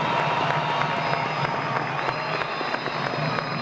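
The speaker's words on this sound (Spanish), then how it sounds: "Un aplauso para todos ellos." A large studio audience at a televised political broadcast applauds in steady, dense clapping that holds at a constant level from start to finish, with some cheering mixed in.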